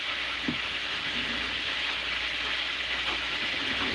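Fish frying in a pan on a home kitchen stove, a steady broadband sizzle and hiss with a few small pops, close and continuous with no talking.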